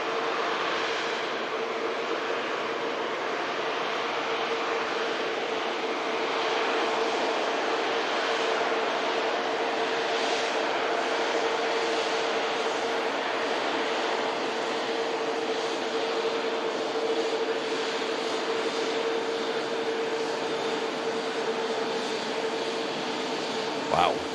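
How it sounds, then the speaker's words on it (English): A Qatar Airways Airbus A350-1000 airliner at Manchester Airport gives a steady, broad jet engine roar with a faint tonal whine, holding level for the whole stretch without pause. "huge A350 1000 here with Qatar Airways"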